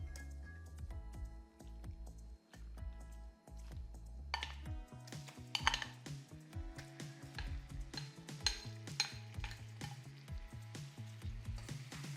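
Marinated chicken pieces hitting a hot pan for Kerala-style chicken perattu, with soft sizzling, clinking utensil scrapes and stirring that grows busier and louder partway through, no voices.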